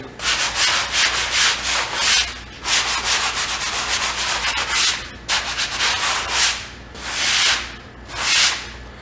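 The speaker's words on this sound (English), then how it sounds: "After the first coat of sheetrock 90 is dry, all you want to do is lightly sand." Light hand sanding of dried Sheetrock 90 compound on a damaged drywall corner, a close, soft scratchy rasp in repeated strokes and bursts of a second or so, with brief pauses between passes.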